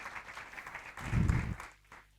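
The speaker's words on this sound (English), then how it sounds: "Please give him a nice round of applause." An audience at a climate-change panel discussion applauds a speaker, a dense patter of clapping that swells briefly in the middle and then fades out.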